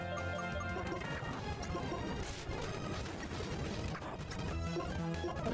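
Scald, a water-type attack in the Pokémon Volt White video game, lands as a dense, loud crashing burst that holds steady for several seconds, blended with busy game audio and no talk.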